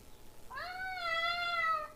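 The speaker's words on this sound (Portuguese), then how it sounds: "Vamos colocar os gatos aqui, vamos ver se a gente escuta." A single drawn-out cat meow, AI-generated, rising then holding steady with clear harmonics for about a second and a half, heard alone and fairly close.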